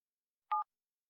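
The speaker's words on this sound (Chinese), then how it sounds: "我现在就打电话叫他来" A single short telephone keypad tone, one clean beep of a number being dialed, heard alone against silence.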